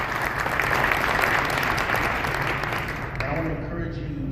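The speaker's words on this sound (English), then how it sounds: "Give him a round of applause." Audience applause at a White House entrepreneurship summit in Flint, Michigan, broad sustained clapping with murmuring voices mixed in, tapering off toward the end.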